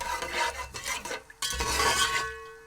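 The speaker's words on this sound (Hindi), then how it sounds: "अब हम सबसे पहले इसमें सौंफ और इलायची डाल देते हैं और इन्हें हल्का सा फ्राई कर लेते हैं" Fennel seeds and cardamom dropped into hot oil for a sweet jaggery rice dish, stirred with a utensil: close rustling scrapes and a brief pause, then a fuller burst of frying noise.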